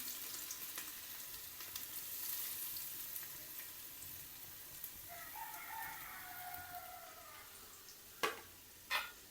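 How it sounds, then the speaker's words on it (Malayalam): Sliced onions frying in hot oil for biryani, a faint continuous hiss and sizzle close by, with a rooster crowing faintly in the background and two sharp knocks near the end, no talking. "ഇനി നമ്മൾ അതിലേക്ക് സവാള ചേർക്കുക കേട്ടോ. വലിയ ഉള്ളി ചേർക്കുകയാണ്."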